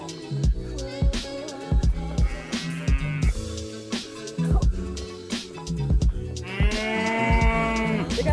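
Cows in a snowy farmyard moo repeatedly, several overlapping calls at varying pitch with clanking and knocking noises between them, fairly close by.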